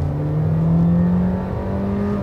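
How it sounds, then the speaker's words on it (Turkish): A 2016 Audi A4 1.4 TFSI engine revs under acceleration, its whine climbing in pitch, dipping briefly, then pulling again, close and steady. "Yani şimdi gazlasam, gerçi motor sesinden pek bir şey anlamazsınız"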